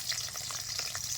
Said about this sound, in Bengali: কড়াই গরম হয়ে গেছে, দিয়ে দিচ্ছি সরষের তেল। তেল গরম হয়ে গেছে, পুরনে দিয়েছি রসুন কুচি